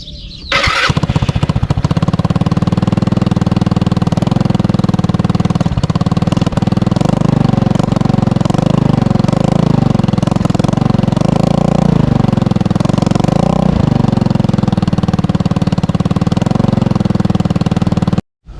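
A Honda Ruckus scooter with a swapped-in GY6 engine runs with the exhaust silencer fitted, recorded close to the pipe: a loud, steady, buzzing engine drone that continues unbroken before cutting off abruptly at the end.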